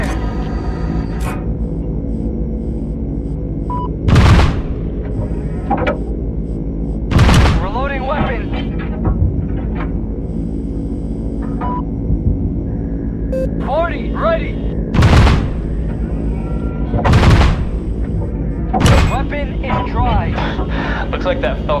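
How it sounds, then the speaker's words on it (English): Heavy 40mm cannon aboard a gunship firing in the video game Angel of Death, several deep booming shots spaced a few seconds apart over a steady engine drone, with radio-style voices talking between rounds. "Weapon out! Stand by! 40, ready to fire!"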